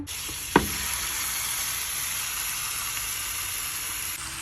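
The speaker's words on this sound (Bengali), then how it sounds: "আমি এখন এটা প্যানে দিয়ে দিব দিয়ে দিব তো প্যানটা অলরেডি আমি চুলা অন প্যানটা অনেক গরম করা" Beef ribs that sat in marinade for about two hours sizzle loudly and steadily in a very hot pan on the stove. A sharp knock comes early as the meat goes in, then a dense, even frying hiss carries on alone.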